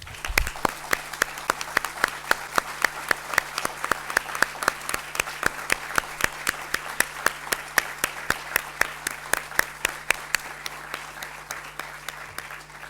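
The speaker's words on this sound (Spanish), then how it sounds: "le brindemos un último aplauso a Magdalena Echeverría" An audience at a report-launch event applauds with steady, rhythmic clapping that is clearly audible above a low electrical hum and keeps going for about thirteen seconds.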